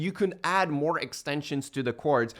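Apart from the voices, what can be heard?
None of the usual background noises is heard.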